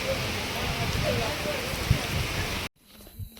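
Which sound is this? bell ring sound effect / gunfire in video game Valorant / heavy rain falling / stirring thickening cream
heavy rain falling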